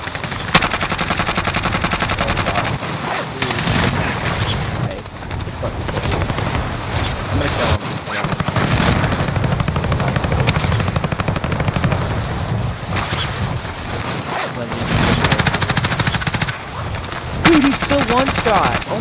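Call of Duty: Modern Warfare gunfire rattles in dense, sustained automatic bursts with brief pauses, loud and close, while players talk over the shooting.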